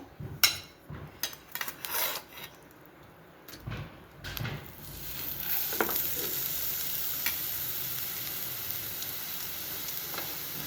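Scraping and stirring in a wok, then grated coconut hits hot ghee and settles into a steady, close sizzle with occasional scrapes of a spatula.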